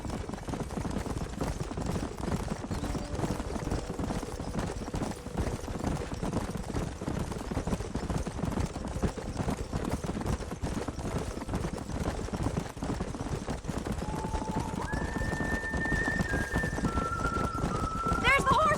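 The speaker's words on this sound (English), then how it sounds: "There's the horses!" Horses galloping and neighing in the video game Red Dead Redemption: a continuous rapid clip-clop of hooves running throughout, with a whinny near the end, under game characters talking.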